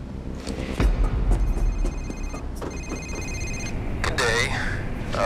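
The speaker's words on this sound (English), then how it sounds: "Phone's ringing. Time to pick it up and start this trade off." In the PayDay 2 video game, a telephone rings in two steady electronic bursts over game ambience and background noise.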